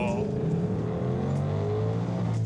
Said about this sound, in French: Hey, le moteur monte à 6000 tours.